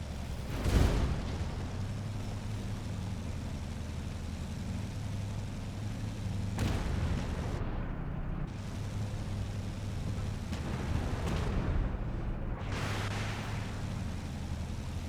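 Tank cannon blasts from a tier 7 main battle tank in the video game Armored Warfare, a few loud booming shots spaced several seconds apart over a steady low engine rumble.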